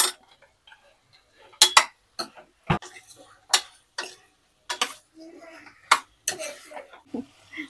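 Chunks of mutton dropped into a cooking pot already holding a little turmeric, giving a series of sharp separate clinks and knocks of meat and utensil against metal at irregular intervals in a quiet kitchen.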